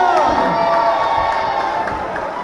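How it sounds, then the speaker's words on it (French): A large crowd at a national-level basketball game cheers and shouts loudly and steadily, with children's voices rising above the roar of applause. "Un tonnerre d'applaudissements pour Méline, Étienne, Nathéro,"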